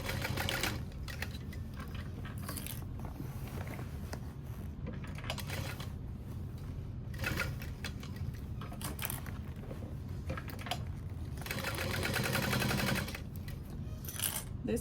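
A sewing machine stitches a backpack strap, a fast rapid-fire mechanical chatter at close range running almost continuously, with brief pauses and a louder surge near the end.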